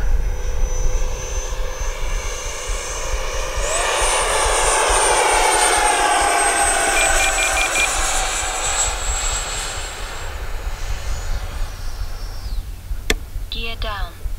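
A small FMS Rafale 80mm ducted-fan RC jet whines overhead, its pitch rising and falling as it passes, loud and continuous, with a sharp click near the end.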